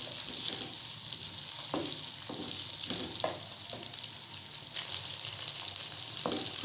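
Half a kilo of potatoes frying in a pan for an aloo gobhi dish, with a continuous close hiss of sizzling oil and occasional soft taps of stirring.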